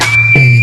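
A single sustained whistled tone held steadily, loud and clear, with a low hum underneath.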